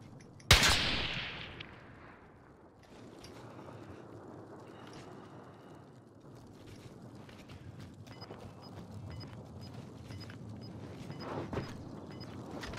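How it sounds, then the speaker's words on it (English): A single sharp sniper rifle crack in Call of Duty: Modern Warfare bursts out early and loud, fading into windy ambient rumble with faint mechanical clicks and a softer thump later on. "I'm getting sniped from everywhere"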